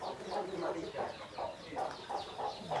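Chickens in a spacious farm coop give a steady series of soft, rhythmic clucks, roughly two or three per second, fairly quiet and close, with no talking over them.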